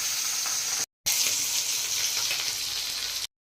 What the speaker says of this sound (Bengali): এখন আমি মাছটা নুন হলুদ মাখিয়ে ভাজা বসিয়ে দিলাম।